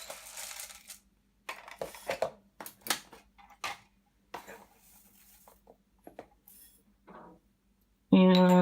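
Pumpkin seeds and dark and light flax seeds mixed in a bowl for multiseed sourdough bread, with scattered dry rattling and clinking bursts and a sharp loud clatter at the end, with a voice talking quietly in between.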